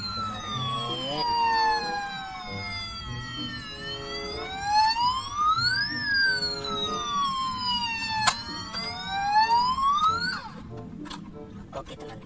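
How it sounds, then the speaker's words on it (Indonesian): A toy fire truck's electronic siren wails up and down in slow sweeps, steady and fairly close, with faint background noise beneath it. "ada mobil pemadam kebakaran"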